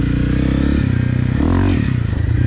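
A Honda CRF 250 Rally motorcycle with an aftermarket exhaust and 13-tooth front sprocket, riding with a loud steady engine drone that rises and falls slightly in pitch, close and continuous with wind noise.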